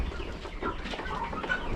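Farm chickens eating their feed, giving soft, scattered clucks over a low, busy background rumble, close by and without any speech.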